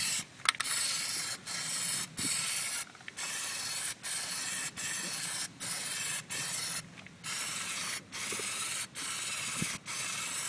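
An aerosol can sprays Plasti Dip onto a 2012 Cadillac Escalade ESV wheel in short, regular hissing bursts, roughly a dozen passes separated by brief pauses, close and steady.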